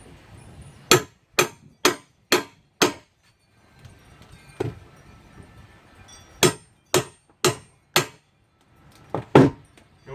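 Hand tools pry and hammer trim off a shed door, giving sharp, loud, evenly spaced blows in two bursts of about five, with a single strike between them and more near the end, close by without talk.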